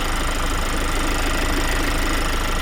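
A 2025 Kia Carnival's 2.2-litre turbodiesel idles steadily up close, with a dense, even diesel clatter and rumble that stays constant throughout and no voices over it.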